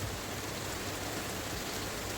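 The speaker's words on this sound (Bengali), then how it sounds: "দেখো বৃষ্টি পড়ছে" Rain falls steadily outdoors near a resort, a dense, even hiss of drops with no breaks and no talk.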